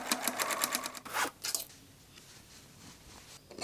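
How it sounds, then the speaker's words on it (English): Sewing machine stitching the side seams of an old denim skirt being made into a tote bag, a close, rapid mechanical whir in short bursts for about a second and a half, then a pause and a brief restart at the end. "stitch the side seams to reduce the width of the piece"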